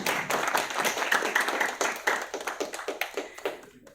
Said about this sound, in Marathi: अरे टाळ्या कमी पडतायत आहेत कमॉन